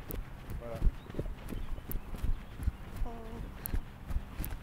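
Horse hooves clip-clopping in a steady walking rhythm while ridden with a hackamore, moderately close and fairly soft, with a brief snort or neigh and quiet background voices.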